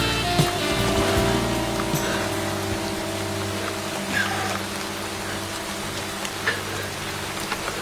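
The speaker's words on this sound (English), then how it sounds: "It's raining." Steady rain falls and patters on surfaces throughout, a continuous wash of noise with occasional louder drops and a low engine-like hum underneath.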